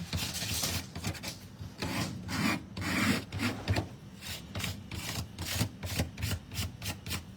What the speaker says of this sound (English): Burnish, that's right, we're gonna burnish it.